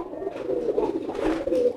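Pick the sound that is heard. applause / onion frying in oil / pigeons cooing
pigeons cooing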